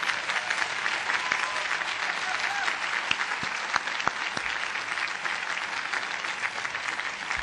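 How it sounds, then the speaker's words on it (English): A round of applause at a law school commencement ceremony, dense and sustained clapping from a large crowd filling the whole stretch, with a few sharper individual claps standing out. "He deserves a round of applause."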